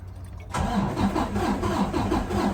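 A Freightliner Cascadia truck engine cranks steadily during a compression test after a brief quiet start, a rhythmic laboring churn that repeats without catching, close and fairly loud.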